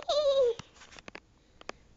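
A cat lets out one drawn-out, wavering meow up close, followed by a few soft clicks and rustles in an otherwise quiet room.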